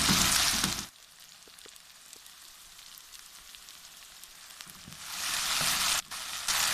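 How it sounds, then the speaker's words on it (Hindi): Tomato puree goes into keema masala frying in a pan. A loud, close sizzle drops to a quiet simmer with faint stirring clicks, then surges back into strong hissing. "इसके बाद हम डाल देते हैं ये टमाटर की प्यूरी।"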